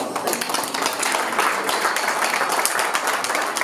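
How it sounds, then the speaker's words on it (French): Wedding guests applaud a family at a wedding reception, with steady, moderately loud clapping from a room of people filling the whole stretch, and some faint background voices under it. "nous allons vous applaudir"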